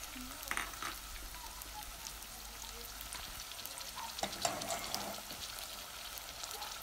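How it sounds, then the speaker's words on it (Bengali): Chopped onion and garlic paste fry in three tablespoons of oil for a Sylheti chital fish curry, a soft steady sizzle with scattered crackles and a few utensil scrapes, fairly quiet and close. "এখন এড করমু পেঁয়াজ কুচি, একটা আস্তা পেঁয়াজ কুচি। পরে আমি এড করমু একটা রসুনের পেস্ট"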